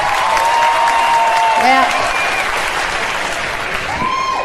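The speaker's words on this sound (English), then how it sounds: "Applaud the married girls. Applaud real big." Crowd applause from a live comedy show audience, a broad steady wash of clapping throughout with a few voices calling out over it.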